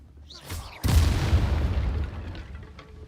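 A deep, booming whoosh of the Incendio fire spell being cast in a Harry Potter video game erupts suddenly after a faint lead-in, then rumbles and fades over a couple of seconds.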